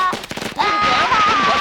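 Rapid bursts of firecracker-like bangs in a Hindi-dubbed South Indian action film scene, loud and continuous, with a piercing whistle-like tone running under the crackling barrage.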